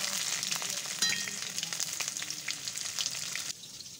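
Pieces of soft, tender pointed gourd (potol) frying in oil, a steady bright sizzle with crackling spatters that carries on continuously and close, then eases slightly near the end, with no talking.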